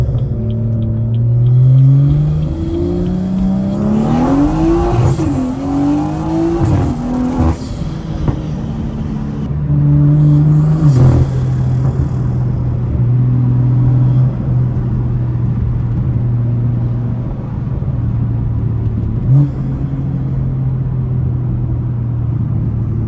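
POV drive in a red car, its engine rumbling steadily and rising in pitch through several clear revs and accelerations, up close and loud with no talk.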